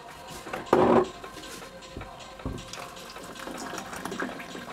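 Water is poured over RolRol crunchy snacks, splashing in short bursts, with one louder gush near the start followed by quieter running and trickling sounds.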